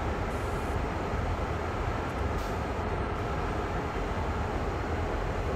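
Electric passenger train braking on the Northeast Corridor in Train Sim World NEC New York, a steady loud rumbling roar of wheels and motors that holds evenly throughout, with no talk.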